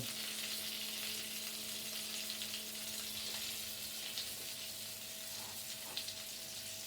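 Butter and onion fry quietly in a pan for homemade beef burgers, giving a soft, steady sizzle with faint stirring touches and a low background hum.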